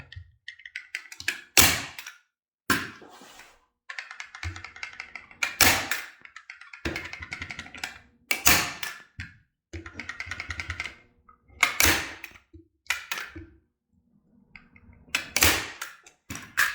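Staple gun fired repeatedly into canvas stretched over a wooden stretcher frame at a hidden corner, giving sharp, close thunks at irregular intervals with quiet handling sounds between them.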